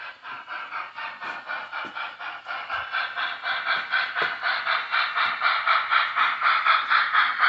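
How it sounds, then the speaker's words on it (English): A small N scale model train runs along its track with a fast, regular clickety-clack rhythm and a light whirring hum that grows slightly louder. "try moving the train"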